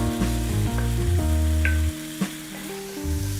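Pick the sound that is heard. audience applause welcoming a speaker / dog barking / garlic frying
garlic frying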